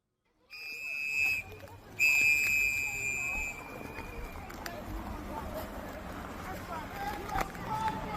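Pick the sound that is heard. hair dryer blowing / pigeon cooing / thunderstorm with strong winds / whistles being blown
whistles being blown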